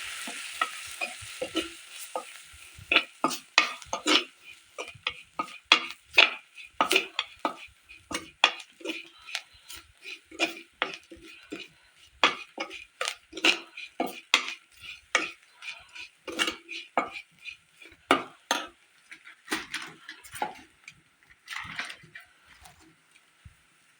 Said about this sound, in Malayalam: മഞ്ഞപ്പൊടി, മുളക് പൊടി, മല്ലിപ്പൊടി. മൂപ്പിച്ചെടുക്കാം.